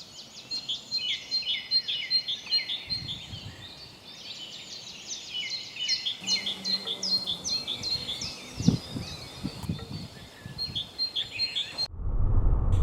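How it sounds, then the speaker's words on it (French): Birds chirping around nest boxes in Saint-Brieuc, a dense continuous chorus of high twittering and tweets, with faint rustling and a brief low thump near the end. "Les oiseaux n'ont même pas peur, heureusement."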